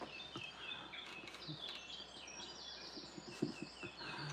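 Pet birds chirp faintly indoors, scattered high tweets and calls repeating through the stretch amid a quiet, muffled room background.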